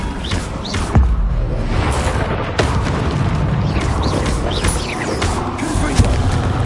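Spell-casting in Hogwarts Legacy as Flipendo is thrown, a dense stream of booming, crashing game combat impacts with sharp hits near 1, 2.5 and 6 seconds, loud and continuous with no voices.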